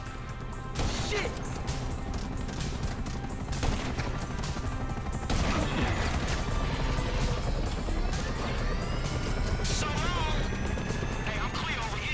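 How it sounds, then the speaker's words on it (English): Attack helicopters in GTA V, heard as dense gunfire, crashes and explosive impacts over rotor noise, with players talking throughout. "you might want to do something about the choppers before we're blown out of the sky"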